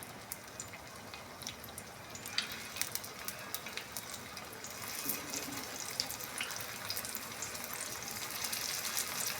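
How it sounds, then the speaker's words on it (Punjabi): Potato tikki sizzle in hot oil in a home kitchen, a soft continuous crackle with scattered sharper pops that grows slightly denser over time, with no talk. "ਹੁਣ ਇੱਕ ਇੱਕ ਕਰਕੇ ਅਸੀਂ ਤੇਲ 'ਚ ਟਿੱਕੀ ਰੱਖਾਂਗੇ"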